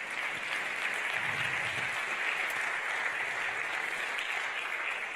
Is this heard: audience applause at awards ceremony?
yes